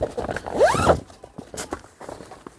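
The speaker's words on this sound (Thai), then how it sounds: "ถุงซิปลื่น" A zipper on a Naturehike camping cot's storage bag is pulled open in one quick, close rasping zip, followed by softer rustling and handling noises.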